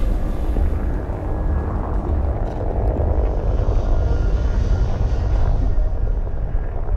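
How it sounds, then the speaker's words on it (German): A loud, steady rumbling roar of helicopters flying at night from the Munich Olympic Village to Fürstenfeldbruck military airfield in 1972, a heavy low drone that holds without a break. "fliegen die Hubschrauber vom Olympischen Dorf zum Militärflugplatz Fürstenfeldbruck"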